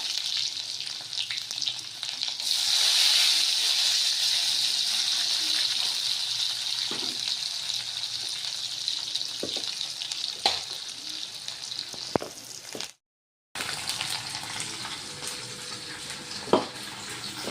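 Chopped onion fries in hot oil over a mustard-cumin tempering for a spinach-garlic dish, a loud continuous close sizzle with faint stirring clinks, briefly cut silent partway through, no voices.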